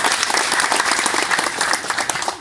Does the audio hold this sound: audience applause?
yes